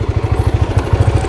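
A Kawasaki Ninja motorcycle idles close by, its engine thumping in a quick, even pulse, loud and alone without any talk.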